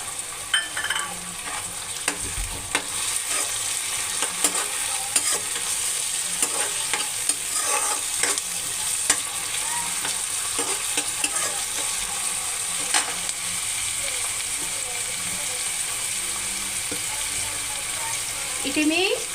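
Onion and tomato stir-frying in oil in a pan for masala capsicum, a steady sizzle broken by repeated spatula scrapes and clinks against the pan, close and fairly quiet throughout.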